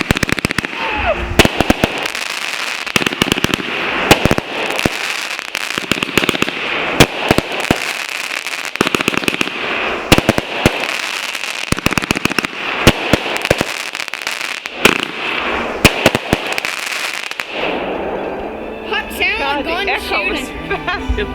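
Backyard fireworks and firecrackers go off in rapid crackling bursts, loud and dense for most of the stretch before ending abruptly, with people talking and exclaiming throughout.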